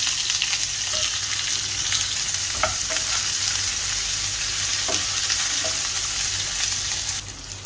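Onion and green chilies sautéing with ginger in a pan for a prawn molee coconut curry, a loud continuous sizzle with occasional scraping stirs and a low steady hum beneath.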